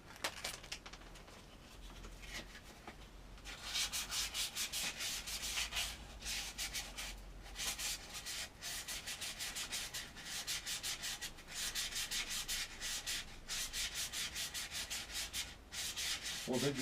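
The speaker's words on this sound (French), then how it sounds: "Oh, je vais peut-être poncer avant, ça sera fait." Sanding a car clutch part during a rebuild, with steady back-and-forth rubbing strokes repeating in bursts, fairly faint and close, with no talking.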